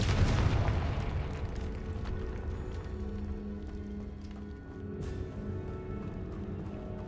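A Confringo spell explosion in Hogwarts Legacy on PS5 opens with a heavy booming blast that rumbles and decays. Lighter crackling bursts and a sharp hit near the five-second mark follow, with no voices.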